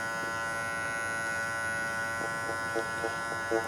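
Electric hair clipper cutting hair around the ears during a short back and sides haircut, a constant close buzz with small rhythmic changes in pitch as the blades pass through hair.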